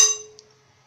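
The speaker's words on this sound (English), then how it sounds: "the alarm is also ringing" An automatic school bell controller's alarm gives a single bright metallic ring that fades away quickly, close and alone.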